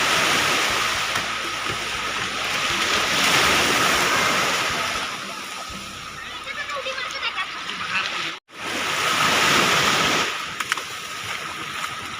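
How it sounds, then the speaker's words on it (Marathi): Sea surf at a Konkan beach around seven in the evening rushes in a steady, loud, broadband roar that swells and recedes, with one brief dip midway. "आणि आता वाजलेले संध्याकाळचे 7 आणि आम्ही समुद्रावर आलोय"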